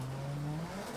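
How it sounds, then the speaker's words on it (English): A racing car in Project Cars 2 holds its engine at the rev limiter, giving a steady, buzzing high-rev drone with a slight wobble in pitch, close and continuous for a moment. "rev limiter"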